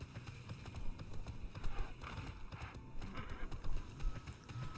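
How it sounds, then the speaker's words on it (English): Horse hooves clip-clop at a steady galloping rhythm while riding in the online role-playing game TERA, with an occasional whinny, loud and close against a busy game soundscape. "Nothing like a good run for your exercise, especially when you're riding a horse."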